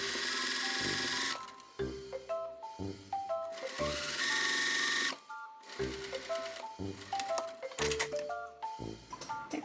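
A domestic sewing machine stitching a cafe apron hems in short bursts, its close, steady mechanical whir starting and stopping several times with brief pauses between runs.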